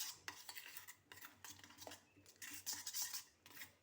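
A spoon stirs and scrapes spice masala for brinjal fry in a bowl, soft close clinks and gritty scraping in an uneven rhythm with no voices.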